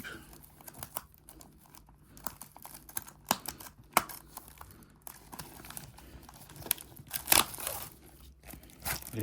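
A sealed trading card display box being opened, heard as scattered crinkling, tearing and tapping clicks close by, with a brief burst of crackling plastic near the end.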